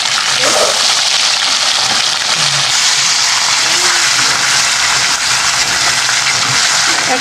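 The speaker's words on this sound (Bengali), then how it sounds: "মাছটা আমি ভেজে নিচ্ছি বেশি কড়া ভাজবো না" Pieces of rohu fish fry lightly in a pan, giving a loud, steady hiss and sizzle that runs without a break for the whole stretch.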